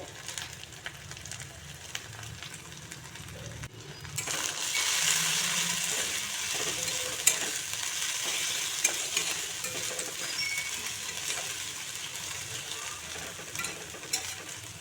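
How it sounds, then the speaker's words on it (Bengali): Chilli and spices sizzling in a pan, a soft crackle that swells into a loud steady fry with intermittent stirring scrapes and clinks close by. "এখন মরিচ আর মশলা একটু কষিয়ে নেব।"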